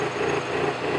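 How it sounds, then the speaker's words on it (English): On a lathe, a boring tool cuts the inside of a stainless steel ring, making a steady, close, high-pitched machining whine with no voices over it. "Now the hole is wide enough that I can use the boring tool."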